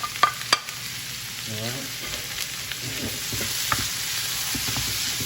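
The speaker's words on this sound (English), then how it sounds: "I really cook the vegetables and all the seasonings first" Green peppers, green onion and tomato frying for Jamaican ackee and saltfish, a steady soft sizzle under occasional stirring clicks and scrapes, with a brief spoken word near the start.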